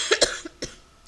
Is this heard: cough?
yes